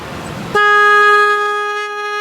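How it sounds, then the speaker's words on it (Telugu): A loud, steady horn blast sounds close up from a train-style horn fitted on a motorbike, breaking in after a short stretch of traffic noise and holding its tone to the end. "ఇదేంటండి హార్న్? ఇది ట్రైన్ లా ఉందేంటండి, ట్రైన్ హార్నా?"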